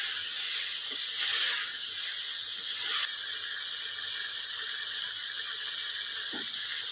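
Steady loud steam hiss, like a pressure cooker venting while potatoes and beans cook, runs continuously throughout with faint clinks underneath and no talking.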